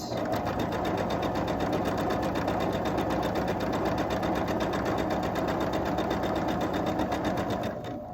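A sewing machine chain pieces quilt block units in one long continuous run, its fast even stitching hum close and steady throughout with no pauses or voices.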